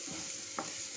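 Sliced onions sizzle in hot oil while being stirred in a pan, a brief steady frying hiss with a soft scrape of the spatula near the middle, heard close with no speech.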